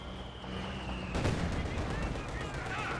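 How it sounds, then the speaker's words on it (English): A T-34-76 tank shell slams into Panther Grenadiers in Company of Heroes 2 with one sharp blast, followed by scattered gunfire. Everything stays fairly quiet and sits under a narrating voice. "Good hit there from the T-34-76 on the Panther Grenadiers, almost wiping out half the unit."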